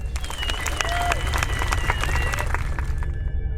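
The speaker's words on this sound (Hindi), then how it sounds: "उस बंधी लड़की को देख रूम के बाकी लोग बहुत उत्साह से ताली बजाने लगे।" Excited clapping from a roomful of people, dense and sustained, with voices and cheering mixed in and a low rumble beneath, fading out at the end.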